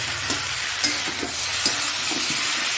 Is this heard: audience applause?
no